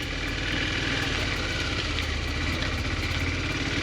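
A 2005 Honda CBF250 motorcycle engine idles on choke just after starting, a steady, close, even thrumming putter that holds constant with no talking.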